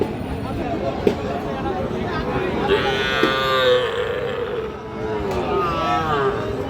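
Cattle at a busy livestock market, Shahiwal bull calves among them, low repeatedly through the clip, one long moo rising clearly around the middle, over a constant babble of traders and people talking nearby.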